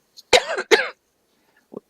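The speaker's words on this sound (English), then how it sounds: "My mic is right there, and I just had to cough." Two close, sharp coughs in quick succession, followed by a faint short throat sound after a pause; otherwise quiet.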